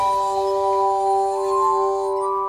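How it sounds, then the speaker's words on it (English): A glass harmonica rings out with sustained, pure, bell-like tones, several notes held steadily and overlapping with a soft shimmer, played alone and close. "The glass harmonica."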